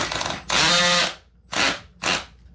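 A power drill whirs in three short bursts, one longer then two quick ones, loud and close with brief pauses between.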